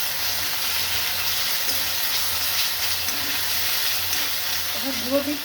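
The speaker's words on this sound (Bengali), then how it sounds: "এবার মশলাটা আমি একটু কষিয়ে নেবো, দিয়ে হলুদ লঙ্কা গুঁড়ো দেবো।" Ginger-garlic paste, ground on a stone, frying in a pan with turmeric and chili powder for a pointed-gourd yogurt curry, giving a steady, even sizzling hiss throughout with faint tonal sounds near the end.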